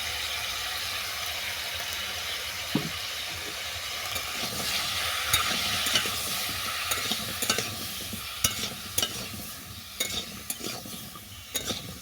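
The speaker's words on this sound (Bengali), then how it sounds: "এটাকে ভালো করে 5 মিনিট ধরে ভেজে নেব" Chopped green tomatoes frying in a little white oil in a pan, a steady close sizzle with occasional stirring scrapes and clinks, no talking.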